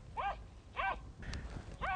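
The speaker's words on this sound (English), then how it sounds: "We are on a beach and there's a dog barking" A dog barks on a beach during a wedding photo shoot, sounding as several sharp, moderately loud barks spaced about half a second apart over steady outdoor background noise.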